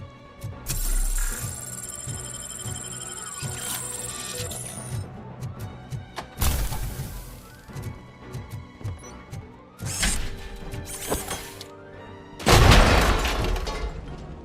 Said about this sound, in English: That explosion is massive.